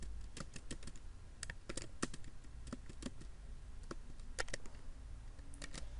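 Someone types a matrix into Matlab on a computer keyboard, making quiet, close clicking keystrokes in irregular runs and pauses, with no voice over them.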